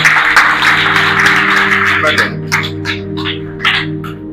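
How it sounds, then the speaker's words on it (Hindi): Church congregation claps for a person who has just given testimony, a loud dense patter of hands under a fairly strong voice, thinning toward the end. "इनकी ताली बजा दो"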